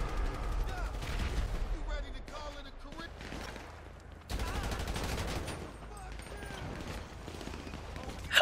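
Gunfire in GTA V hits the player, a fairly quiet spread of shots and bursts that drops off and picks back up, mixed with other game sounds and faint talk.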